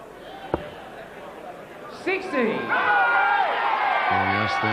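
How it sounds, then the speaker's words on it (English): A darts crowd at the 1997 BDO Lakeside World Darts Final breaks into cheering and whooping, swelling after a sharp thud and staying loud, with a commentator's voice over the noise. "Yes, they have something to cheer about."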